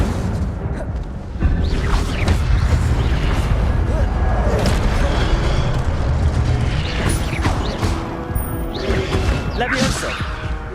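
Incendio fire spells in Hogwarts Legacy burst with heavy booms, crashes and fiery whooshes. The blasts arrive in dense, overlapping waves that stay loud and continuous throughout.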